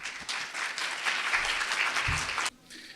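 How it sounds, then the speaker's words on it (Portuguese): Audience applause at a multiple sclerosis symposium in Brazil, a sustained wash of clapping from a crowd in a hall that cuts off abruptly near the end. "Uma salva de palmas."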